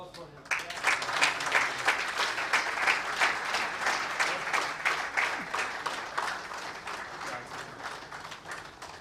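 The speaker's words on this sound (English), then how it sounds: "We must all give huge round of applause for him." An audience at a pharmaceutical industry workshop on GMP requirements bursts into applause, a dense rhythmic clapping that starts abruptly, holds steady and slowly thins toward the end, heard somewhat distant in the hall.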